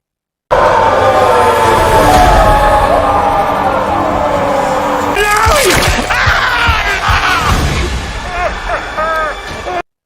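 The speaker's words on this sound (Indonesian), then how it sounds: "Mendengar teriakan aneh dari para bocil" Shrill, wavering screams of young voices rise over a loud, dense background rumble, growing more frequent toward the end.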